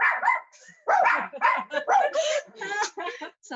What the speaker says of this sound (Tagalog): Sorry, may yung aso.